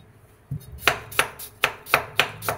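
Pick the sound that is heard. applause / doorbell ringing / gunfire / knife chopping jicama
knife chopping jicama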